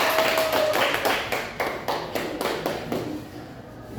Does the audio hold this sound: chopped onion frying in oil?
no